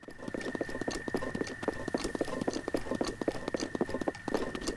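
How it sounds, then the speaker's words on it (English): Link's gear rattling with each running footstep in Tears of the Kingdom, the shield clacking on one foot and the arrows and sword on the other, forming a quick, steady rhythm of soft clattering steps under a faint constant tone. "When Link steps with his right foot, only the shield makes noise, and when he steps with his left foot, only the arrows and sword make noise."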